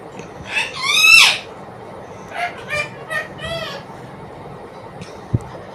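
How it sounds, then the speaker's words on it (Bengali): A pet bird calls indoors on a rainy day, a loud rising warbled burst followed by several shorter chirps, with faint background room noise. "আমার পাখির কথা তোমরা একটু শোনো আর ভিডিওটা দেখো।"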